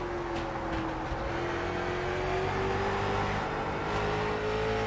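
Simulated Jr. late model race car engine on the Las Vegas Bullring track in an eSports racing game, a steady sustained drone that holds close and constant for the whole stretch without any talk.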